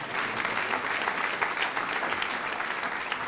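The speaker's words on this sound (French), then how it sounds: "Vous avez le droit d'applaudir." Church congregation applauding during a sermon, a continuous wash of many hands clapping at an even level throughout, moderately distant, with no one speaking over it.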